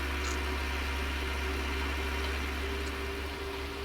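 A Fordson or Nuffield tractor engine, working at hay carting in 1966, runs at a steady idle with a low, even drone and a faint mechanical hum. It stays constant and close throughout.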